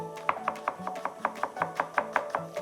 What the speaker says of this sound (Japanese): で最後にニンニクをみじん切りすると。